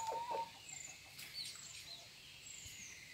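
Juvenile hens resting inside a backyard coop in Karnataka give faint, scattered clucks and short calls over a quiet, low background.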